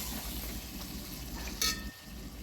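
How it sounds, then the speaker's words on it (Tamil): Goat intestine gravy masala with onion and tomato is stirred and sautéed in a pan, giving a steady close sizzle and frying hiss with light scraping and one brief clink of the utensil. "நல்லா வதக்கி விடுங்க."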